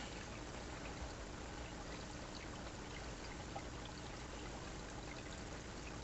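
Salt water from a brine shrimp hatchery draining steadily into a bowl, a continuous pouring trickle that stays even and fairly close, with no voice.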